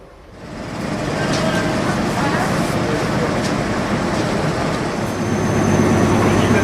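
Diesel locomotive pulling a train out of Amiens station toward Noyelles, a steady loud rumble building after a quiet start with rolling rail noise and a low engine hum, a voice faintly heard beneath.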